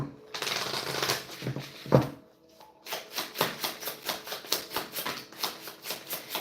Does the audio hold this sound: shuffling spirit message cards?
yes